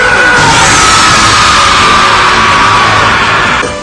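Vegeta, the anime character, lets out a loud, sustained scream of nearly four seconds as he transforms into Super Saiyan Blue, a strained, harsh yell that stays at full intensity from start to finish.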